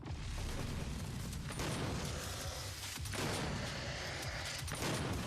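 Super shotgun blasts in the Doom video game come in a dense, booming volley with explosions and mechanical clatter, loud and continuous over about five seconds.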